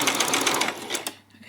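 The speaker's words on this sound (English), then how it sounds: "I'm going to just do a back stitch" A domestic sewing machine runs in a short burst of rapid mechanical stitching while sewing a back stitch, then stops abruptly. A faint voice is heard near the end.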